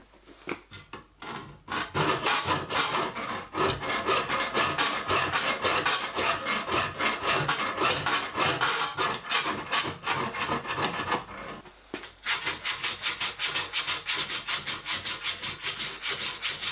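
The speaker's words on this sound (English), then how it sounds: "So I'll clamp that onto there and we'll finish filing it to shape." A steel part for a 5-inch gauge model steam locomotive being hand filed to shape against a filing guide, rhythmic rasping strokes repeating steadily, close and alone, with a brief pause near the end.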